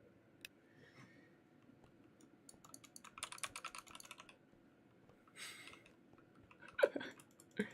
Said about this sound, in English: Sock, do you see my keystrokes?